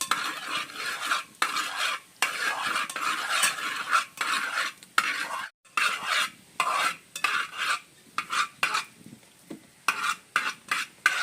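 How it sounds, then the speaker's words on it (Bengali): A ladle stirs and scrapes through milk reducing for rabri in a pan, a steady run of close rhythmic strokes with brief pauses and a soft sizzle beneath. "তারপর আমি একটু হাতা দিয়ে একটু নেড়ে দেব"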